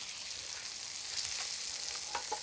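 Fish fillets sizzle steadily in a hot pan while being flipped by hand, a continuous close frying hiss with a couple of brief clinks, no voices.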